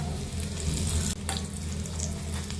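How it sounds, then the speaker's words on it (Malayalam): Four dried red chillies, a sprig of curry leaves and small shallots fry in hot oil as a tempering for cucumber yogurt curry, making a steady, moderately loud sizzle over a low background hum. "ഇതിലേക്ക് 4 വറ്റൽമുളക് ഇട്ട് കൊടുക്കുന്നുണ്ട്."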